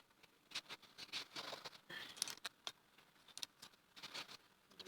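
Rain patters outside, a faint, irregular scatter of light taps and drips at a distance with no voices.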